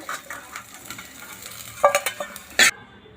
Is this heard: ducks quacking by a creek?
no